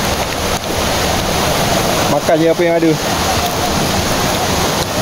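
Steady broadband rush of water at Jangkar Waterfall in Lundu, Sarawak, constant and fairly loud throughout, with people chatting casually in Malay over it.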